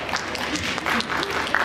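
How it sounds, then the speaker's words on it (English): An audience at an entrepreneurship conference panel in Algeria claps for the panelists, a moderate wash of applause with a few voices mixed in throughout. "So give a round of applause for our panelists."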